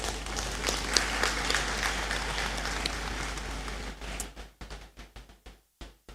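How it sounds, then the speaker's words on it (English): A round of applause for Mr. Arthur fills a great hall at a university congregation ceremony, dense and steady for about four seconds before thinning into a few scattered, fading claps. "I strongly believe he deserves another round of applause."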